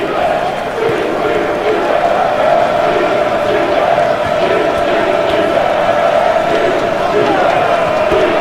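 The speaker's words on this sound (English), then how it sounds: "Crowd buzzing here, trying to distract Washington State." A simulated college basketball game crowd buzzes steadily through a sports video game broadcast, a dense constant murmur with occasional sneaker and bounce sounds, under a commentator's ongoing play-by-play talk.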